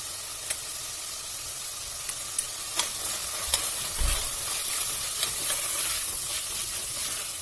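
Tomato paste fries in a pan with a steady close sizzle and hiss, broken by light clicks of a utensil stirring and one soft low knock against the pan.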